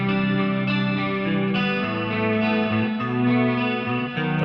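Clean electric guitar chords from an isolated track ring out with a shimmering chorus-like effect, sustained notes changing steadily and continuously at a moderate, even volume.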